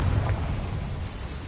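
A Confringo spell explosion in Hogwarts Legacy on PS5: one short, deep, rumbling blast that stays loud and steady and fades only slightly over a second and a half.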